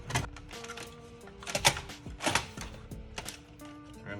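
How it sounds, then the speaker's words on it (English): A cleaned disk drive being fitted into a PS4 Pro CUH-7015 console, giving quiet plastic clicks, taps and scrapes of parts seating at close range, with no talking. "we're gonna install the disk drive in, which has also been cleaned out"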